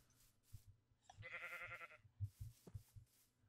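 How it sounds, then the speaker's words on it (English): Sheep bleating in the Minecraft video game, a wavering, bleat-like call lasting under a second amid soft in-game thumps and footsteps. "So many sheep here."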